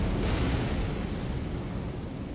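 A boss attack in Elden Ring's DLC sets off after-explosions, a dense, rumbling barrage of booms that starts loud and slowly fades over a couple of seconds.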